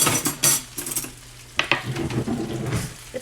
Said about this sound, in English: Fishy in the frying pan